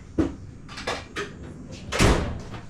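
A tool drawer slides shut in a basement workshop after an impact wrench is put away, giving several short knocks and a louder rattling thud near the end, close by with no talk.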